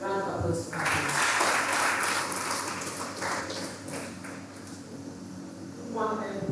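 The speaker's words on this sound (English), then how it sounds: "Round of applause for her." An audience applauds a pediatrician arriving to give a lecture, with dense, steady clapping filling the room for several seconds before fading out.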